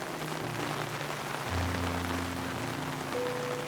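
Rain patters on wool blocks in Minecraft, a soft steady hiss of drops with low muffled rumbling underneath, continuous and even throughout.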